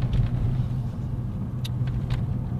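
A VW Golf 4 GTI 1.8T with a Milltek stage 2 exhaust cruises along, its low steady engine and exhaust rumble heard from inside the car, with faint clicks and no talking.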